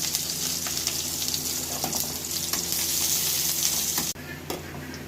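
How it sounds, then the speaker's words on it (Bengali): Chopped onions sizzle and fry in a pan for a Bengali moong dal dish with taro leaves, a steady loud crackle with stirring scrapes throughout, briefly dipping near the end, with no talking. "তারপরে দিয়ে দিচ্ছি পেঁয়াজ কুচানো।"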